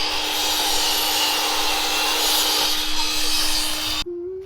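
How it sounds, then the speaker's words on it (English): A power saw cuts 4x2 timber into firring strips for a flat roof on a building site, one loud, steady continuous cut that stops abruptly near the end. "The lads are cutting the fern strips, and Mick's cutting the noggins there"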